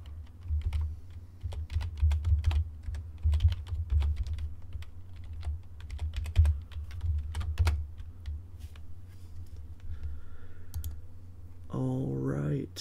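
A master password is typed on a computer keyboard as a quick, uneven run of close key clicks over a low hum, and a short higher-pitched tone sounds near the end.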